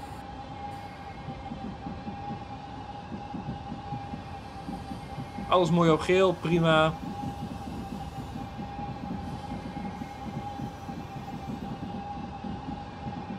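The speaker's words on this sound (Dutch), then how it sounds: "dan gaan we even dit trein rangeren" NS DDZ double-deck electric train in Train Simulator 2015 shunting between Amersfoort and Utrecht, a steady low rumble with a constant electric hum throughout, while someone speaks briefly in the middle.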